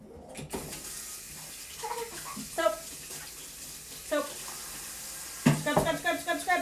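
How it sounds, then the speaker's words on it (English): Water from a kitchen tap runs in bursts as soap is rinsed off hands, splashing and hissing with a few louder gushes, while people talk intermittently over it. "You just rinsed all the soap off"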